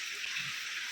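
Rain falls on a farm as a steady, soft hiss of drops, even and continuous, at a moderate distance with no voices.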